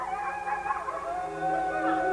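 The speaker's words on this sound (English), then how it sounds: "The dogs howled, Cooper died." Several dogs howling together, long overlapping wavering howls that rise and fall, sustained and fairly loud, no talk.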